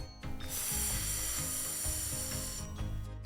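A voice imitates a lawn sprinkler with a steady, breathy whispering hiss that holds evenly for about two seconds between short quiet gaps.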